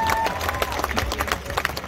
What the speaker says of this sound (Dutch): Gaan we een fijn applaus geven aan niemand minder dan Deborah Veerman.